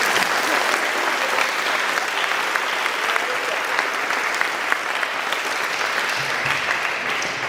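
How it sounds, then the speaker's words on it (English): Loud, sustained applause from a large audience at a school academic awards ceremony, dense clapping filling the whole stretch without pause. "let's give our parents and families a big round of applause"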